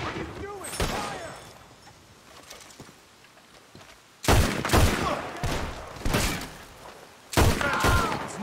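Gunfire volleys in the video game Red Dead Redemption 2, several loud sharp bursts of shots spaced a few seconds apart, with voices speaking between them.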